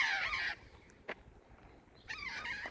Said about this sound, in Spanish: se escuchan de fondo también los tricahues.